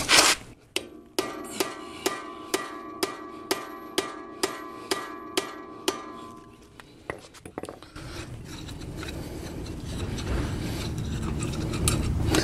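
A stuck brake rotor screw is worked loose, starting with about a dozen evenly spaced sharp metallic clicks like a ratchet, then a grinding, rasping scrape of the screw turning that swells louder toward the end.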